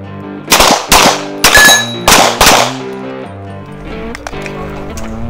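Rapid pistol fire at a dynamic shooting practice: five loud, close shots in fast rhythm, followed by ringing metallic clangs from hit steel plates that fade out.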